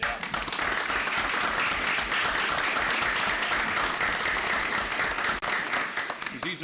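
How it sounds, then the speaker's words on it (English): Audience applause at a council meeting, sustained dense clapping from the chamber for several seconds, steady and fairly loud before tapering near the end. "I think you deserve a round of applause."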